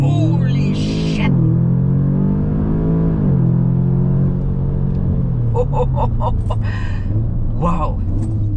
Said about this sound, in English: Now, let me show you how incredible this launch control in an Audi S3